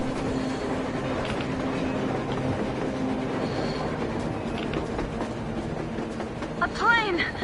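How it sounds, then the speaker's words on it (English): Surface train in the Metro Exodus video game rumbling steadily in a blizzard, with rolling rail noise, wheel clatter and a brief squeal near the end; voices speak over it. "A train! A damn train on the surface!"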